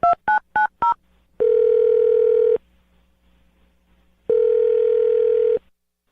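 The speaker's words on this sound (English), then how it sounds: "I'm going to dial her phone number right now." Four quick touch-tone dialing beeps sound on a telephone, followed by two long, steady ringback tones separated by a pause.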